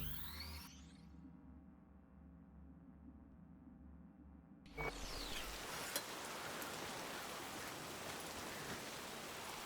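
Rain in Cyberpunk 2077 starts as a quiet low drone, then a steady hiss of falling rain swells in abruptly midway and keeps going at a moderate level.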